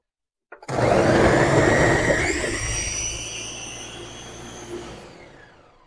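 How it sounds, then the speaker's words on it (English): A blender starts abruptly and whirs loudly, its pitch shifting as jerk chicken marinade ingredients churn, then gradually quieting over several seconds. "throw them in the blender with everything else"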